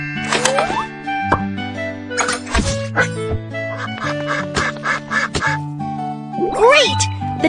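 Cartoon duck quacks in a Baby Panda animal rescue care game, several short bright quacks over a busy backdrop of game music, plops and sound effects.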